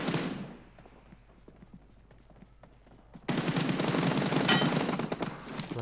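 Gunfire in the mobile battle royale game PUBG Mobile: a quiet spell with faint scattered shots, then a sudden loud run of rapid automatic fire that continues steadily to the end.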